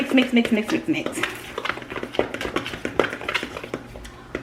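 Cream of mushroom chicken being stirred in a pan: irregular scraping and clacking of a utensil against the pan, close by, with a voice speaking over the start.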